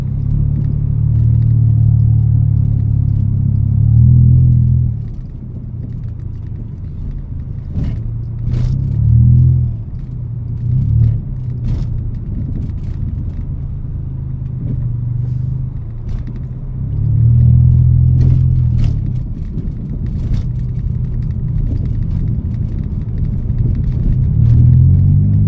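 A motorized tricycle's engine rumbles low and steady up close for the whole stretch, swelling louder a few times as it revs, with occasional scrapes and clicks on top.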